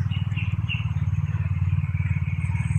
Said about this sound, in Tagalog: may kanina pa yung pabalik-balik mga motor.